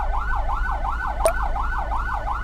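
An ambulance siren wails in a fast, steady rising-and-falling pattern over a low engine rumble, with one sharp click midway, heard from the ambulance's dashcam on a road to Surakarta, Indonesia.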